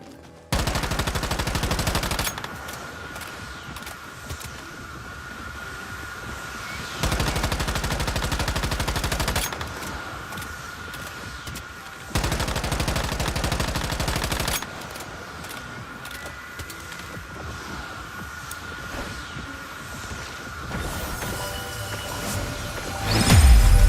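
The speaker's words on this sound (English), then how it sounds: "Let's use the submachine gun." A submachine gun firing in the video game Once Human, with long sustained bursts of rapid automatic shots broken by short pauses, loud and close throughout.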